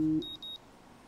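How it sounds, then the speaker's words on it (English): In the game Life Is Strange, an alarm clock beeps in a short pattern of a few quick high tones just after a low steady tone cuts off, then quiet room ambience follows. "today we start episode 2 with an alarm going off"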